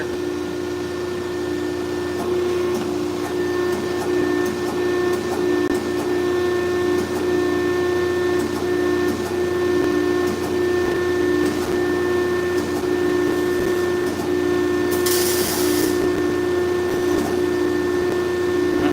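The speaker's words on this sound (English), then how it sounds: "it's a manual brake, but it's a 48-inch, 100-ton. Does the job on this 3/16 plate for sure." A 48-inch, 100-ton manual press brake works 3/16-inch steel plate with a loud, steady hydraulic hum and whine, broken by faint clicks and one brief hiss near the end.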